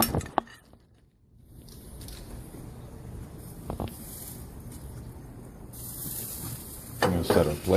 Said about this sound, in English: I'm going to set a plate down